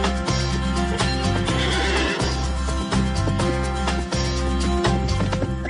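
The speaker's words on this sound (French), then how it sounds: "un nouveau cheval que nous trouvons tous très beau" A horse neighs and whinnies loudly over a continuous musical score, with faint hoof clip-clops mixed in as the call rises and falls across several seconds.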